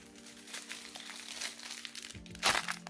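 A Pokémon card pack wrapper is torn open and crinkled up close, giving steady plastic crackling and rustling with a sharper tearing burst near the end, and no talking.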